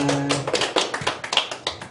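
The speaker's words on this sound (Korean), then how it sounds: "하나님께 영광의 박수 올리겠습니다" A church congregation claps in praise after a sermon, a dense burst of hand claps that softens and thins out into scattered claps over a couple of seconds.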